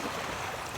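Sea waves washing onto a rocky shore, a continuous broad rushing wash close by with no distinct breaks, heard briefly without talk.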